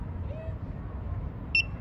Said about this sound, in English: Long press the enter key. A beep was heard.